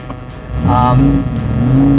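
A Ford GT supercar accelerating, its engine note climbing through the gears under steady road noise, close and fairly loud, with a voice speaking over part of it.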